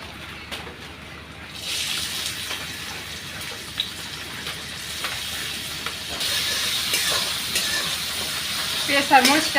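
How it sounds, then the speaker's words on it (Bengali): Sliced onions and chillies sizzle lightly in a frying pan, a steady close hiss with occasional stirring scrapes that grows louder and brighter toward the end, with no talking. "পেঁয়াজ আর মরিচটা হালকা করে ভেজে নিন"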